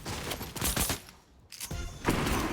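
Gunfire in the video game Fortnite, shotgun blasts among several loud close shots in a rapid burst, a brief lull, then more heavy firing.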